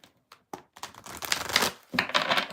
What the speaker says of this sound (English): All these cards to shuffle,